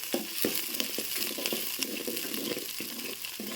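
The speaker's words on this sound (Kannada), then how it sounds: "ಈ ಉಳ್ಳಾಗಡ್ಡಿ ಒಂದು ಸ್ವಲ್ಪ ಫ್ರೈ ಅಲ್ರಿ" Onions fry in oil with mustard seeds for avalakki (poha), giving a soft, steady sizzle with frequent small crackles and pops close by.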